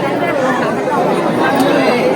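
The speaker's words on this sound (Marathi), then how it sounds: "फुल गर्दी आहे." Dense crowd chatter at a crowded hilltop Shiva temple on Dindigad, many voices mixing into a steady, loud murmur close around the listener.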